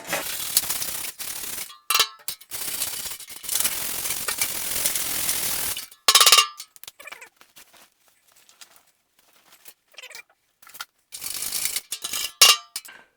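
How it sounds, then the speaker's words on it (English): A wire brush scrubs rust off the inside of a metal tool box in harsh, scratchy strokes, long bursts at first, then shorter scrapes and sharp metallic knocks separated by silent gaps. "I got a good amount of rust on the inside, so I think I'm going to use the wire brush."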